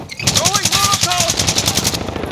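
Rapid automatic gunfire in a multiplayer shooter video game crackles in a steady, fast rhythm from nearby, with a voice shouting over it.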